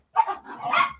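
A young German Shepherd kept as a pet gives a single short, sharp bark up close indoors, loud and alone.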